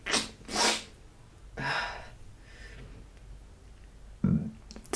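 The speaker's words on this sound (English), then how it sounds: "and I'm burping as I say it now" Close, quiet bodily sounds: a few short breathy bursts, then a low, throaty belch toward the end. There is no speech.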